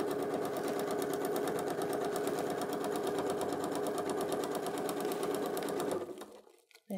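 A sewing machine backstitches a seam on a fabric thermal bag with insulating material, a steady close-up whirr of rapid needle strokes that runs continuously for several seconds before abruptly stopping.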